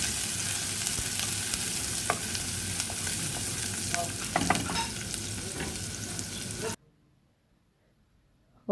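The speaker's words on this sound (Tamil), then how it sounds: "ஒரு பாதி வெங்காயத்தை வச்சு சின்னதாக வச்சு இதுக்குள்ள போட்டு தாளித்து எடுத்துட்டு" Chopped onion tempering in hot oil in a pan crackles with a steady sizzle, punctuated by spatters and stirring scrapes, then stops abruptly into near silence.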